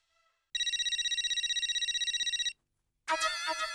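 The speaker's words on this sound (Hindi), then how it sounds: "उठाता ही नहीं हूँ, बजने दो। उठा उठा, फोन उठा।" A phone rings in a steady electronic trill for about two seconds, stops briefly, then starts ringing again, loud and close with no talking.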